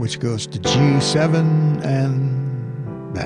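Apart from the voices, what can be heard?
No distinct noise like a dog, phone or traffic.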